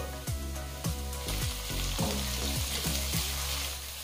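Chopped onion, capsicum and tomato fry in oil in a pan, sizzling steadily up close, with regular scraping strokes of a stirring spoon.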